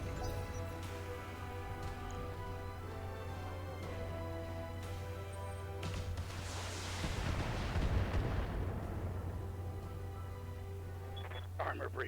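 Mech weapons fire in the BattleTech video game, a booming burst of blasts swelling midway over a low steady engine drone and synthetic computer tones, with someone talking across it.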